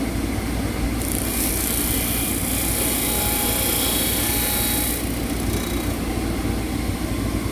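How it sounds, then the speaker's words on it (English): A stationary sander roars steadily up close while small wooden angles for a step stool are cleaned up against it, a brighter grinding hiss rising over the drone for several seconds in the middle. "I'm going off the edge of the sander a little bit."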